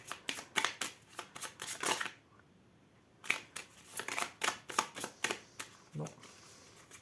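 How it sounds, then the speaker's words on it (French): Tarot cards shuffled by hand in a long series of quick, crisp riffling bursts, close and fairly quiet, with a short pause partway through; no one speaks. "on va prendre une carte tarot pour voir l'énergie qui va accompagner"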